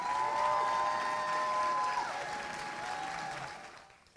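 Audience applause for the Oakland Athletic League academic team at an awards special, with a sustained wash of clapping that gradually fades toward the end while a faint tonal hum runs underneath.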